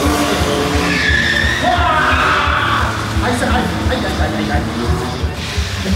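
Stunt cars skid at a live police-themed stunt show in a German theme park, tires squealing and engines revving loudly over a sustained stretch, with a voice talking through a loudspeaker over the action.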